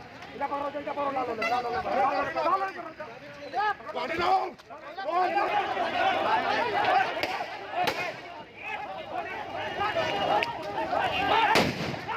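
Gunfire breaks out during violence at a block chief nomination in Sitapur, Uttar Pradesh. A few sharp cracks cut through the constant loud shouting and babble of a crowd.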